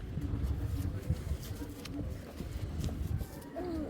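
A racing pigeon coos in low, repeated throaty calls close by, with someone talking over them and faint background hum throughout.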